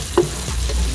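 Onions added to a hot pan of browning pork give a steady low sizzle with a brief stirring scrape near the start.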